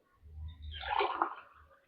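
Water poured from a vessel into a cooking pot while making potato biryani, a short close splash and gurgle that swells and fades within about two seconds in a quiet room.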